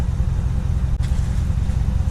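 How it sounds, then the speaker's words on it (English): A 2016 Ram 1500 pickup runs with its exhaust cutout open, giving a loud, steady low rumble that stays close and constant throughout. "So basically this is what you guys can expect if you have an exhaust cutout."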